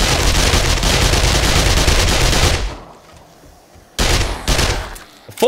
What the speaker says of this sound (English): Time for the SMG.